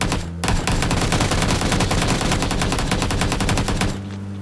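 Rapid automatic gunfire in the video game PUBG, a loud dense burst of shots fired continuously for several seconds with no talk over it.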